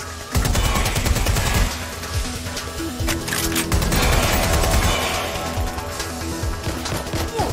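Automatic gunfire from Watch Dogs: Legion cracks in rapid loud bursts with echoing hits, dense near the start and tapering off toward the end.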